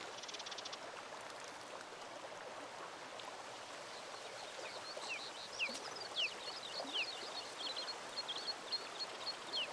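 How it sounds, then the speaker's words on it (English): Steady, soft flowing water from a stream fills the scene in A Plague Tale: Requiem. Faint, high bird chirps sound intermittently over the continuous wash, with no voices. "There's water over there."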